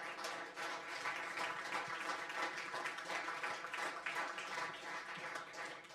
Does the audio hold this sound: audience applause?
yes